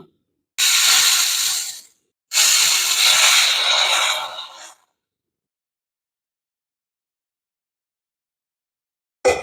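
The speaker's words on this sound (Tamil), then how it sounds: "இப்போ அடை தோசை ஊற்றிக்கலாம்" Adai dosa batter with onion poured onto a hot stone griddle gives two loud bursts of hissing sizzle a couple of seconds each, then falls silent, with one brief hiss at the very end.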